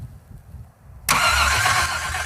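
A barn-find Jeep Wagoneer engine catches after a quiet pause and bursts into a loud, rough running roar that holds steady close by, with no voices over it.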